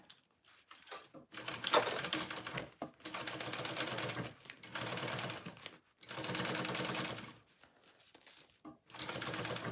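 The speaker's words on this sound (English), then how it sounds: "we're gonna just top stitch along that top part" Sewing machine top stitching along a seam of a Momexa garment, running in several bursts of rapid steady needle clatter, with short pauses between runs.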